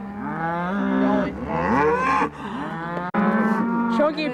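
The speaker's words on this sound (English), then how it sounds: "Plenty of cows" Several cows moo in a stunt video game, with loud, close, drawn-out lowing calls following one another with only brief pauses.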